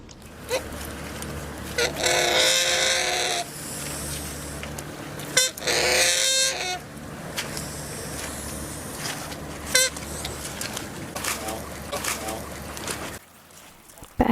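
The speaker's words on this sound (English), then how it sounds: "the dad goose was able to see this dog off with just a series of rather loud aggressive honks" A goose gives a series of loud, aggressive honks at a dog by a river, in bursts of harsh calls over steady outdoor background noise.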